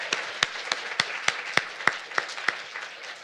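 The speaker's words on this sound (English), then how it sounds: "Can we please get one more round of applause to these 4 amazing poets?" An audience applauds four poets at a poetry reading, a soft continuous patter of many hands with a few louder, nearer claps standing out at a steady beat.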